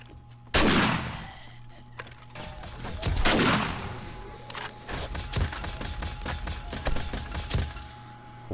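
Automated turret in the video game 7 Days to Die firing, with two loud booming blasts followed by a run of rapid, crackling shots that keep going, close and sharp over a steady game background hum.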